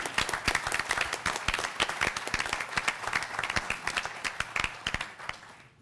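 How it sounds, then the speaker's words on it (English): An audience applauds staff and volunteers at a scholarly conference session, a dense burst of steady clapping from many hands that carries on for several seconds before starting to thin out at the end. "please join me in an enthusiastic round of applause for all the staff and volunteers."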